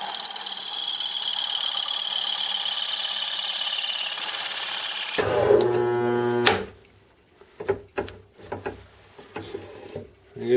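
A Craftsman circle cutter grinds and rubs against thick material in a steady, loud scraping wash, then a motor hum rises briefly before the cut stalls into a few sharp clunks and knocks separated by quiet gaps.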